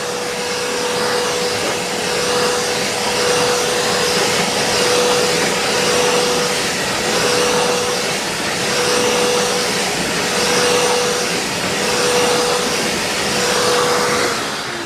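A Vacmaster stainless steel shop vac running continuously while vacuuming a dirty car, a loud steady roar with a constant whine and slight rises and falls in airflow as the nozzle moves, no talking.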